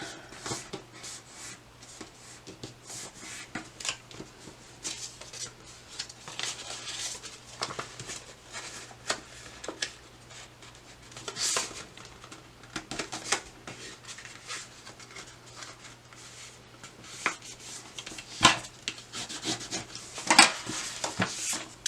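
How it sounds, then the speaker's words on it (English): Paper for a backpack is folded along scored lines, making soft rubbing, creasing and rustling sounds in irregular bursts, close up and fairly quiet throughout. "I'm just going to carefully fold up on those score lines that I made"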